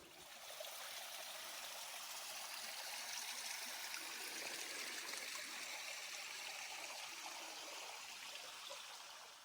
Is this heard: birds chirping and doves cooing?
no